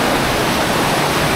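Forest water flows at its source in a steady, close, full rushing wash that stays unbroken and even throughout.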